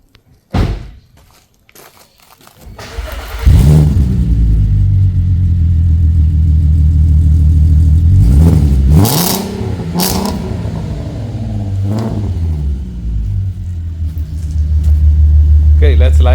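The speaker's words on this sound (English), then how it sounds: "that's gonna be our last startup of the R36 exhaust" A VW Passat CC with an R36 exhaust fires up on a lift after a few quiet clicks, settling into a loud, deep rumbling idle with several sharp revs in the middle.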